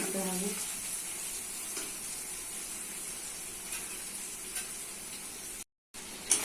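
Onions and spices sautéing for a chicken curry give a steady, close frying hiss with faint scraping from stirring. A short dropout near the end breaks the sound.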